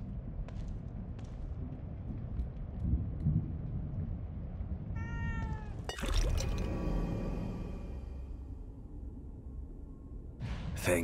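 A cat gives a single short meow in the horror game The Evil Within 2, rising over a steady low rumble of ambient noise, then a sharp crash with ringing tones follows.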